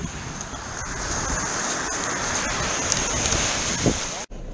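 At night on Lynemouth beach in Northumberland, strong wind and surf make a continuous roar while gusts buffet the microphone, ending in a sudden brief dropout.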